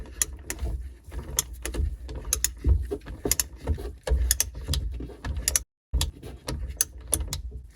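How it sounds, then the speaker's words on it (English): A torque wrench clicks repeatedly while tightening parts on a 951DI direct fuel injection jet ski engine rebuild, with quick sharp close-up ratcheting taps in an uneven rhythm and a brief gap near the end. "continue tightening until you hear or feel your torque wrench make a clicking sound"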